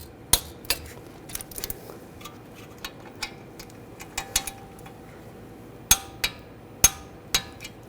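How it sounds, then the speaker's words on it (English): A torque wrench tightens the brake caliper bolts on a BMW 328i, with sharp metallic clicks and taps at irregular intervals, close and distinct, against a quiet garage background. "Now we'll torque these to 22 foot-pounds."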